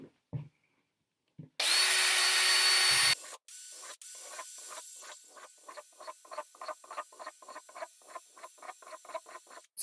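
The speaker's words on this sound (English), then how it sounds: "So we got our holes drilled around the bottom." Drilling holes into a plastic cat litter bucket with a power drill: a loud sustained whine, then a close run of short rhythmic bursts as holes are bored one after another around the bottom.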